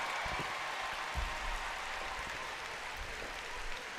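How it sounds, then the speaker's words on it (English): A live audience at FFXIV Fan Fest breaks into steady, dense applause, a continuous wash of clapping heard from a distance with no talk over it. "Biggest applause we got today."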